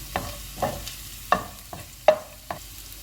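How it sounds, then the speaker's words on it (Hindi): Chopped garlic and ginger fry in hot oil over a full flame, with a low sizzle under about six sharp spatula scrapes and clinks at roughly half-second intervals. "इसमें चॉप किया हुआ लहसुन और अदरक डालेंगे। इनको 30 सेकंड तक फ्राई करेंगे।"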